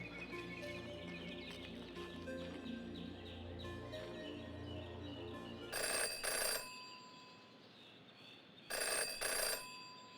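Old-style telephone bell in the PC detective game Jenny LeClue rings in two loud double bursts, the second set coming after a pause, over soft background music.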